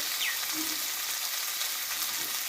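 Spices sautéing with onion and green tomato in a pan, a soft, even sizzle that holds steady throughout, close by with a faint clink near the start and no voices.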